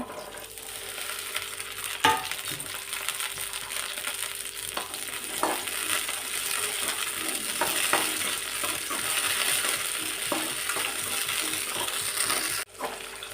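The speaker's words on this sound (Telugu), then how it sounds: "కొద్దిగా ఆయిల్ వేసుకున్న తర్వాత మనం పచ్చిమిర్చి వేసుకోవాలి" Green chillies fry in a little oil on the stove with a steady, close crackling sizzle and frequent spoon stirs, including a couple of sharp metallic knocks against the pan. No one speaks.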